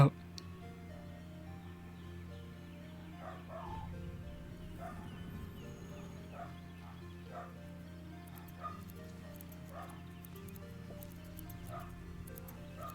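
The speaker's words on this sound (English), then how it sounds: "And there go the dogs." Dogs bark in the video game Jenny LeClue, a series of faint, fairly distant yips and woofs spaced across a quiet game soundtrack hum.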